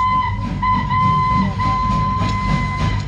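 A train sound effect plays during the Cellular Jail light and sound show, a loud continuous rumble of a running train with a sustained whistle tone throughout, under no talk.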